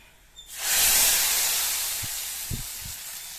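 Fenugreek powder tempering in hot oil for a Kerala pulissery: a sudden loud sizzling hiss bursts up and slowly fades, with a few soft knocks near the end.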